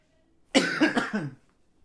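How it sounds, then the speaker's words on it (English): A single close, sharp cough from a man with allergies, a short rough burst of about a second breaking an otherwise quiet stretch. "Sorry about that cough, by the way."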